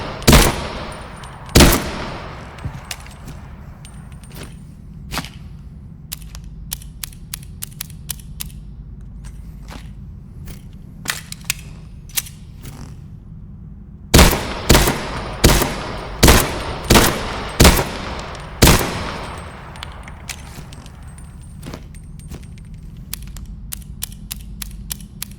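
Pistol gunfire in Into the Radius 2, with a scattered string of sharp single shots, a few early and then a denser cluster in the middle, each followed by crisp mechanical clicks and handling noises.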